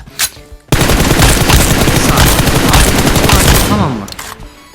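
Rapid automatic gunfire from PUBG Mobile, a dense sustained burst of shots lasting several seconds after a brief quieter opening, loud and close, then tapering off.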